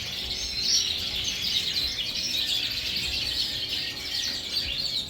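Aviary finches chirping: mini and lesser redpolls, siskins and colour canaries keep up a dense, continuous twittering chorus at close range with no talking.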